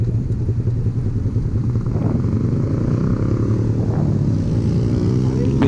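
The engine of a Honda Sonic 150R motorcycle idles and takes light throttle, a loud, steady low rumble with small rises in revs and no talk.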